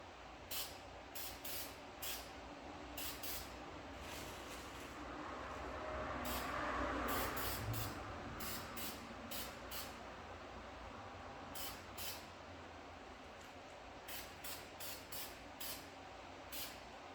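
VHT red spray paint hisses steadily from an aerosol can onto the brake calipers of a 2019 Nissan Maxima SL in a series of bursts, some short and some long, held close with a faint background.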